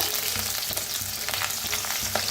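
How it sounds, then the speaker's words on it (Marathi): Loud, dense sizzling of okra frying in hot oil, constant crackle with soft stirring knocks underneath. "भेंडी मस्त छान अशी भाजायला लागलेली आहे तेलात"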